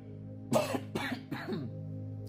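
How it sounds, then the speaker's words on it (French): Three separate coughs from a person in a quiet room, close and fairly loud, spaced about half a second apart and each ending in a short rasping tail. "je n'arrête pas de tousser"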